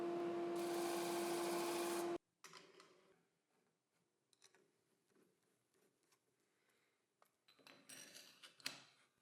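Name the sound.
sanding disc sanding edges of router base plate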